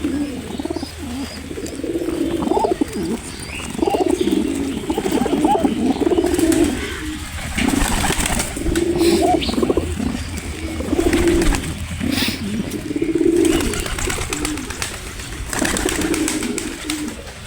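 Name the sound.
pigeons cooing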